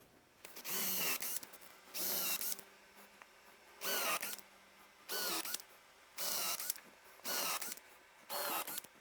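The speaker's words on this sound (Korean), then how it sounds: "이 상태에서 이제 스크류를 고정을 하기 시작합니다." Power drill driving screws into a woodworking crosscut sled in six short whirring bursts, each about a second long, separated by brief pauses, close by with no talking.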